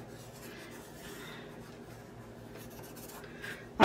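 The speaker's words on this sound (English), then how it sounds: "I'm just going to go ahead and trace 1 circle first, cut it out." A pencil or pen scratches steadily across cardstock while tracing a circle, a soft continuous rubbing close by, ending with a brief louder knock of handling.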